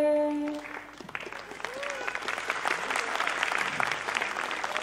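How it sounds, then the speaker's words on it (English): Audience applause for fathers at a preschool annual day, beginning as a held musical tone fades, then swelling into steady, dense clapping from a large crowd that carries on to the end. "let's give a round of applause to the fathers in our lives"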